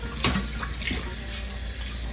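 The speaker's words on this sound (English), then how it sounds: "Just run it over cold water" Cold tap water runs steadily over food strained in a colander in a home kitchen, a constant nearby splashing hiss with a few brief louder splatters and no talking.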